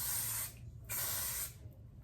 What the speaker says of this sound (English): Okay, so I'm gonna spray it.